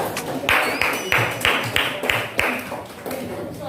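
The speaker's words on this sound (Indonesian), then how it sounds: "Tepuk tangan buat kelompoknya" A small classroom group claps in a short, uneven burst of distinct hand claps after a group presentation, the claps fairly close and spaced out rather than a dense roar.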